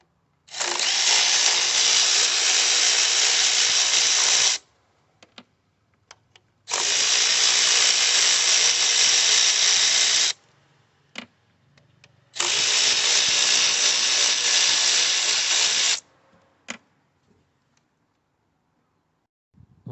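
A power tool on a Ford Fiesta EcoBoost engine undoes the 8mm bolts holding the ignition coils, whirring in three loud bursts of about four seconds each, with faint clicks and handling noises in the quiet gaps.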